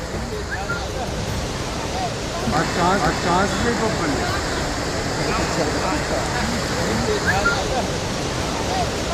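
Mandakini river in flood at Chitrakoot after heavy rain, a broad steady roar of rushing water that carries on without a break, with a voice talking over it.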